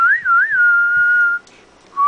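A pet bird whistles a clear, bright tone that warbles up and down twice before holding steady, then stops; after a short pause, another whistled note begins. Soft background noise sits underneath.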